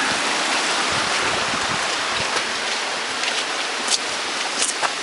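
A waterfall stream at a hiking trail junction near Santiago Peak rushes in a steady, loud, broadband wash that fills the whole stretch, with no voices over it.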